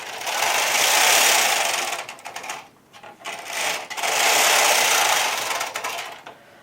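A knitting machine carriage sweeps back and forth across the needle bed knitting two rows of a blanket, giving two long loud whooshing, rattling passes separated by a short pause with a clack.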